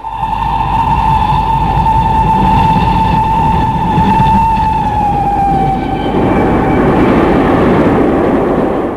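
A train runs through the night as a radio-drama sound effect: a loud, continuous rumble carries a sustained horn-like tone that slowly slides lower before the noise swells.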